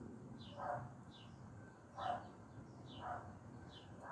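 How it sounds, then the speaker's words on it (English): A dog barks faintly in the distance, three or four separate woofs spaced a second or so apart over a low background murmur. "I think that's my dog."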